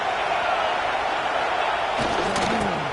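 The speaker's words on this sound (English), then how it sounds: "This crowd bringing the energy and noise early." A stadium crowd roars in the American football video game Madden 25, a dense, loud, continuous wash of cheering with a few sharper calls near the end.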